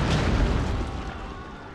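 Bomb explosion in Shogun 2: Fall of the Samurai, a single deep rumbling boom that starts loud and close and slowly fades over a couple of seconds.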